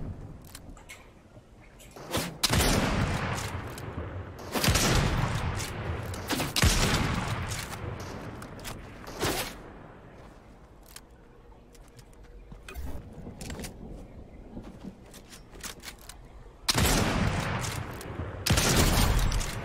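Gunfire in the video game Fortnite, including a gold sniper rifle: loud, widely spaced bursts of shots with quieter gaps between them, and no speech.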